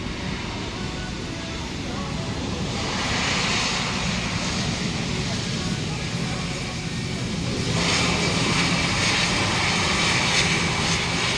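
IAE V2500 jet engine on an Airbus A321 at Tan Son Nhat airport, a loud continuous roar with a broad hiss that swells slightly partway through, heard from close by.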